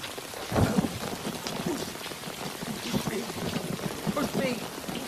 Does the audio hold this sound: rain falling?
yes